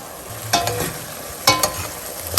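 Minced meat sizzles steadily in a pan for a pasta sauce while a utensil breaks up clumps, with several sharp scraping stirs against the pan over the frying.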